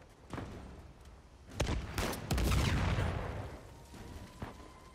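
Gunfire in the game Uncharted 4 cracks out in scattered shots and then a heavier volley of overlapping blasts, followed by a few fainter shots as the noise settles.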